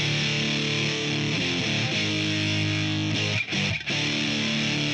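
An electric guitar plays heavy, saturated chords through a Joe Meek gbQ distortion pedal, a thick sustained fuzzy tone that rings continuously with two brief dips, loud and up close.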